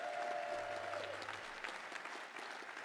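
An audience at a congress gives a round of applause, steady clapping at moderate distance that continues throughout, with faint voices underneath.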